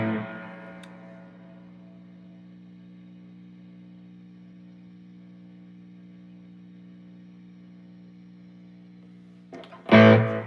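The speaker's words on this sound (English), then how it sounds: "The amp has onboard reverb, which is part of the sound." A sustained electric guitar chord through an amp's onboard reverb rings out and slowly decays with lingering reverb tail, then a sudden loud strum bursts in at the end.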